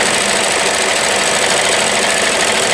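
A 1994 New Home Model 108 limited edition sewing machine runs at high speed, a dense, steady mechanical whir and rapid needle clatter, loud and close with no talk.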